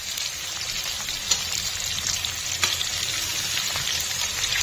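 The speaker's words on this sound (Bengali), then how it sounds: "পেঁয়াজটাকে করে নেব ভালো করে ফ্রাই।" Onions frying in oil for Bengali chicken kosa, a dense, steady sizzle and crackle that carries on throughout, close and fairly loud, with a few faint stirring knocks.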